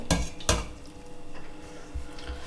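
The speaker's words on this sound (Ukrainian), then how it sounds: "Малину я збила блендером, всипаю її в каструлю" Two sharp metallic clanks against a pot, followed by a soft, wet sloshing as thick blended raspberries are poured in for jam.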